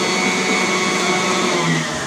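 An electric stand mixer whirs steadily while beating cupcake batter, a loud, continuous motor drone that holds at an even level throughout with no pauses.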